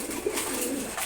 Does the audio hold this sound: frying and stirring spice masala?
no